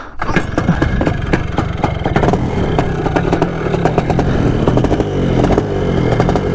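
An old three-wheeler motorcycle engine, left sitting outside for years, catches and runs loudly up close with a rough, clattering idle and uneven pulsing.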